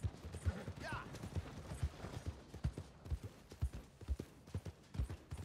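A horse gallops in Red Dead Redemption 2, steady clip-clop hoofbeats in a quick rhythm with faint creaking tack, while someone speaks briefly over it.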